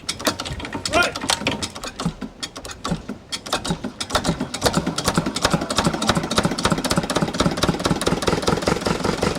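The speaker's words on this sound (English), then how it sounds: "this is Susan's engine" A boat's inboard engine runs in dry dock at St Osyth Boatyard, a steady, close mechanical clatter with rhythmic ticking and rattling that grows denser and louder after the first few seconds.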